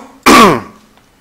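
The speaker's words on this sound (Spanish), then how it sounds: "¿Por qué carajo empiezo a toser?" A single loud, harsh throat clearing with a cough-like burst, close to the mic and alone, fading quickly into quiet.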